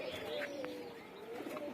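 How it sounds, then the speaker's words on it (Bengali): Female pigeons coo softly at dawn, a low wavering call running almost continuously through the short stretch, with a few faint chirps and light background sounds; the flight itself is not distinct. "এখন আজকেও কবুতর মাদিগুলো উড়াবো ইনশাল্লাহ"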